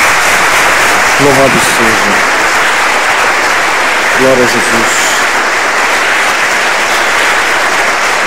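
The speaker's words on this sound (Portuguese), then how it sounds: "Dê uma salva de palmas ao Senhor." Congregation clapping and cheering steadily in praise at a church worship service, a continuous wash of applause that runs the full length while a voice speaks over it twice.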